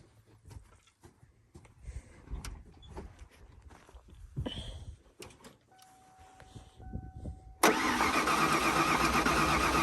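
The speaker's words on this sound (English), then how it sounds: "So we're gonna go ahead and spin her over and just see what she does." A 1994 Ford engine being cranked over after long disuse: irregular clunks and rattles up close, then a sudden steady loud whirring drone for the last couple of seconds, with no speech.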